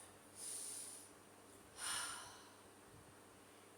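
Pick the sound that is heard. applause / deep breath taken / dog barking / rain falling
deep breath taken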